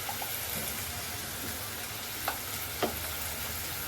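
Red chilli powder, onion-garlic masala and turmeric fry in hot oil with a continuous close sizzle, a couple of brief stirring taps breaking through near the end.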